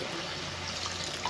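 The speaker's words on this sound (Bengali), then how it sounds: "এবার আমি একটু জল দেবো, নাহলে আলুটা সিদ্ধ হবে না।" A little water poured into a pan of potato curry, a brief steady close rush of liquid lasting about a second, with no voices.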